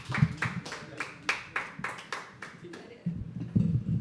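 A small audience at a live poetry open mic at The Habitat claps in a quick, steady rhythm for a couple of seconds, thinning out before a voice and room noise return.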